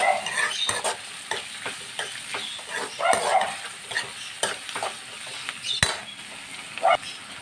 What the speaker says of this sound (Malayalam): ഇഞ്ചിയും വെളുത്തുള്ളിയുടെ പച്ചമണം മാറുന്ന വരെ നമുക്കൊന്ന് ഇളക്കി കൊടുക്കാം